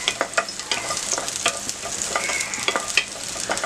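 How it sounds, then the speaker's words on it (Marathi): Mustard seeds crackle and sizzle in a spoonful of hot oil over a high gas flame, a dense, steady frying hiss punctuated by sharp popping bursts throughout, close and fairly loud with no voices. "1 चमचा तेल, परसबी, गॅस फास्ट ठेवलेला आहे."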